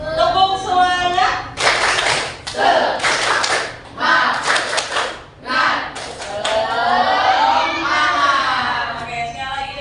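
Students in an eighth-grade social studies class do a rhythmic spirit clap, several sharp bursts of group clapping in a patterned beat, with a teacher's voice and chanting between the claps.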